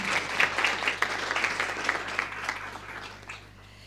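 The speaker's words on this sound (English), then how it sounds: "So, dear participants, join us in welcoming with a big round of applause Professor Joseph Kechichian." Participants at a conference on a new vision for Saudi Arabia applaud to welcome a professor, a steady mid-distance clapping from a modest crowd that thins and fades toward the end.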